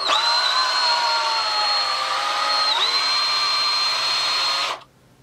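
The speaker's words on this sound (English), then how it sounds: "I'm going to drill that out just a little bit" A small power drill with a 7/64 bit whines steadily at high speed for several seconds while drilling out a small screw hole on a chainsaw kit, dipping briefly midway, then stops abruptly, close and loud.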